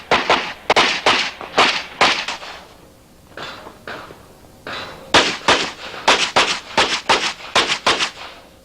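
Gunshots from a competitor running a stage at the 1992 US Practical Shooting Association Nationals, a loud close string of sharp cracks in fast bursts, a short pause midway, then rapid volleys resuming.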